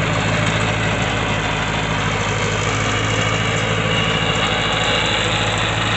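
A Sonalika 60 hp tractor engine runs steadily at idle close by, a constant low diesel throb with a vibrating rumble, no voices.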